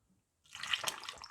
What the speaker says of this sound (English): Now I'm going to add the battery water.